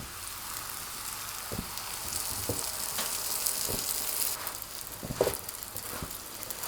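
Flatbread made from flour and water frying in oil on a pan just after being flipped, a steady crackling sizzle with a few sharp taps and bursts scattered through.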